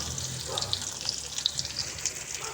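Chopped onion frying in a pan with spice tempering for a potato, pointed gourd and egg dish, giving a steady close sizzle with small crackles and pops and no talk.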